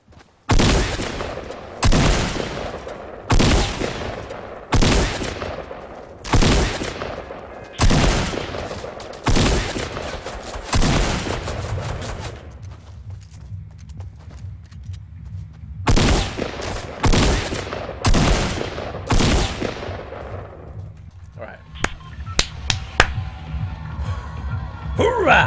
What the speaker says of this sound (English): I'm gonna practice our shots here.